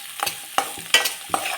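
Cumin seeds and onion frying together in a pan: a soft sizzle with four sharp spoon scrapes spaced irregularly, close up, no voices.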